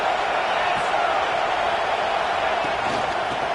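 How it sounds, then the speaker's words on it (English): A stadium crowd at a football game sends up a broad, continuous roar, dense and steady throughout at fairly high level. "This crowd bringing the energy and noise early."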